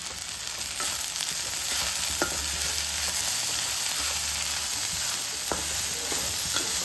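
Horse gram palya with jaggery being stirred in a hot pan, a steady close sizzle and frying hiss with occasional spoon scrapes and clicks, continuous throughout and free of speech.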